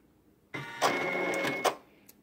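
A Janome MB4, MB4S or MB7 embroidery machine reacts to its OK button with about a second of close mechanical whirring and clatter under a thin steady tone, ending in a small click after a quiet start.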